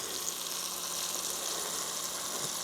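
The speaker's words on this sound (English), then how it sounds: "We want to get a crust on them, a sear on the beef" Beef searing in a pan for stew, a soft continuous sizzle and hiss at moderate level, steady throughout without speech.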